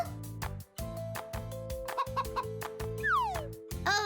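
Cartoon hens cluck in short repeated bursts over a bouncy musical backing, with a few quick squeaky calls and a sliding whistle.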